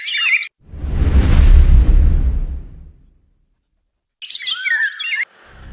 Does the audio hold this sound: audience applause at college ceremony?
no